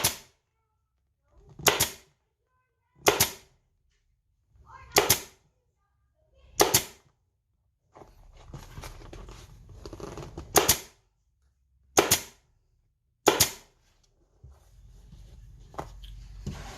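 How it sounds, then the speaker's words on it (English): A pneumatic staple gun fires into an ATV seat cover in sharp, evenly spaced shots, about nine across the stretch, with a hiss of air and handling noise between some of them. "this air, a pneumatic staple gun"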